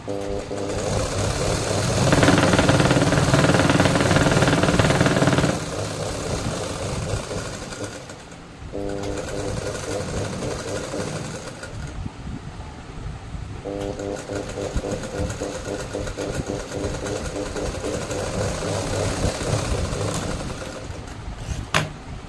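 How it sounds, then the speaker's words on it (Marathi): Sewing machine stitching the back panel of a blouse, running in steady mechanical bursts with a louder, denser stretch near the start, brief pauses between runs, and continuous whirring throughout. "सो आता आपण त्याला दाब शिलाई देऊया"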